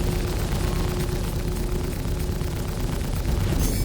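A ship blowing up during a Star Citizen space dogfight: a loud, dense roar of rumbling blast noise that holds steady for several seconds, with a brief brighter crackle near the end.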